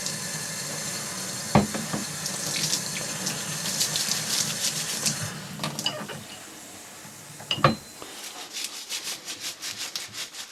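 Water runs steadily into a sink while Tecumseh 8HP HM80 carburetor parts from a Troy-Bilt Horse tiller are scrubbed with dish detergent, with rubbing and a couple of sharp knocks against the basin.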